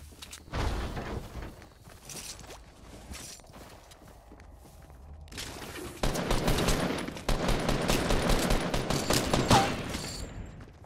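Gunfire rattles through a Fortnite match: scattered shots and footsteps at first, then sustained loud bursts of rapid firing in the later half.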